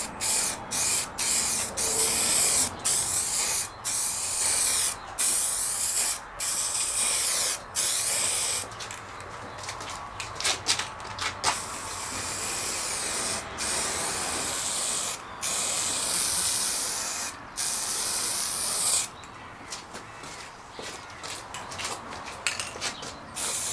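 A rattle can of spray paint, used in a garage to weather model railway track, hisses in long, loud, steady bursts separated by brief pauses, with a few short gaps and clicks of the nozzle between sprays.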